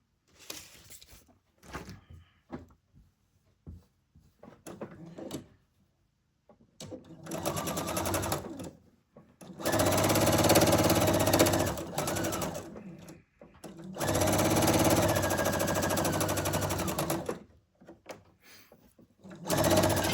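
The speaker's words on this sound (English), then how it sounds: "we're going to stitch 1/4 of an inch" A sewing machine stitches a quarter-inch seam in quilt fabric, running in several bursts of rapid mechanical chatter. The longest runs last about three seconds each, separated by handling noises and brief pauses.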